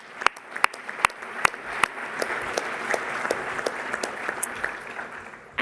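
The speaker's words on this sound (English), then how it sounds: "If everybody could give a round of applause to this great group." A conference audience applauds the program committee at a welcome and introduction session, with a dense bed of many hands and sharp individual claps popping out irregularly near the listener, steady for several seconds.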